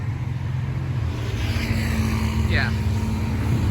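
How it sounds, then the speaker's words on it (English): A motorcycle engine drones steadily at close range beside the Ala Wai Canal in Waikiki, with a brief higher whine sweeping past partway through. "You're gonna have to get used to those motorcycle noises."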